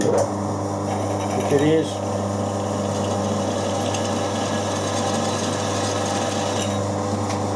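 An 8.6 mm tapping drill bores through weld metal on an aluminium engine mount with a steady mechanical whir and a brief scraping burst near the start, while someone talks over it.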